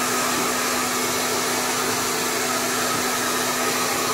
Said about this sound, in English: We just let her dry with the weights on overnight and then blow drying it a little bit.